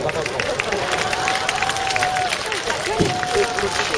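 Festival audience at the Eumseong Pumba Festival applauding outdoors, a dense continuous patter of clapping mixed with crowd murmur and shouts.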